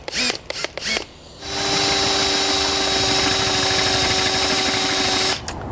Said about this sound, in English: We need to drill through this first section here